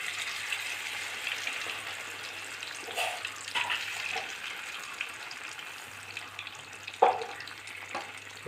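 Yam pieces fry in hot palm oil with a soft, steady sizzle and crackle that persists throughout. A few sharper pops and spatters stand out, with no talking.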